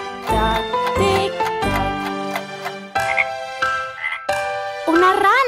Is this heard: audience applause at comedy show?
no